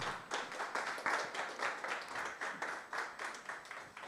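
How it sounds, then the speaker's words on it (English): Audience applause at a business funding talk in Tembisa, steady clapping from a crowd filling the room, sustained and even without voices on top. "Let's give him a round of applause."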